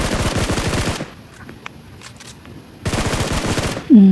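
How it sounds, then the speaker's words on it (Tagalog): Rapid automatic gunfire from the battle royale mobile game PUBG Mobile, loud dense bursts for about a second, then a quieter gap with scattered faint shots, then another loud burst and a voice briefly talking at the end. "Binabaril pa yung Sana"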